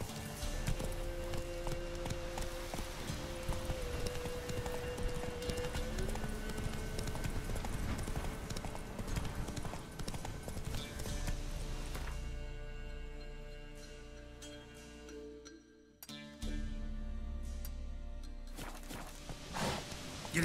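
A horse's hooves clip-clop in a steady walking rhythm in The Witcher 3, close and clear over game ambience. The hoofbeats continue for most of twenty seconds, and the scene thins out briefly near the end.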